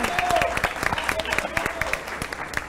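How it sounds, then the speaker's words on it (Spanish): Scattered, uneven clapping from a studio audience on a television show, individual claps distinct, with voices and chatter running underneath. "Un aplauso grande para toda la ciudad de Asunción"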